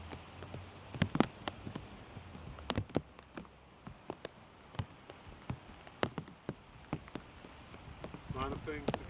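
Rain falls outside at a camp, with scattered sharp drops and taps striking a surface over a soft hiss, and a faint voice or brief sounds near the end.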